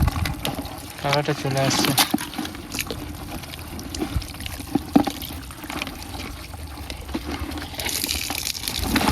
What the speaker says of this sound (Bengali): জলগুলো ফেলে দাও